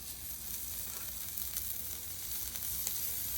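Bacon strips sizzle on a hot flat-top griddle for smash burgers, a steady dense crackle and hiss with small pops, close and continuous throughout.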